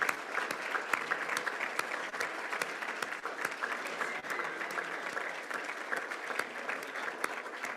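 Steady applause from an audience for people who came in costume, dense continuous clapping lasting several seconds with no talk over it.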